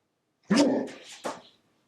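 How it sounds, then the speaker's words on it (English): A single dog barks up close, a loud throaty woof followed by a shorter second yelp, then silence. "maybe Jack is barking at a negative entity right now."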